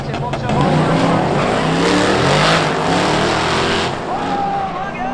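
A race car at Hudson Speedway slides out of shape on the track, its engine roaring loud and close with a sustained revving drone that tails off at the end, while an announcer talks over it.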